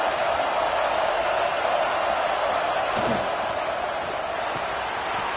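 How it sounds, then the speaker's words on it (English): A stadium crowd roars steadily at a football game, a dense, even wash of cheering noise throughout with a brief thump near the middle. "Listen to the crowd energy here in the early going."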